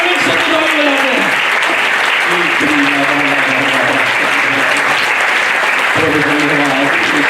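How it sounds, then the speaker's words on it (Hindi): Church congregation clapping hands loudly and steadily throughout a Sunday service at an Assembly of God church, dense sustained applause with a voice speaking over it. "और जोर से ताली बजाते हैं, और जोर से परमेश्वर को ताली बजाते हैं।"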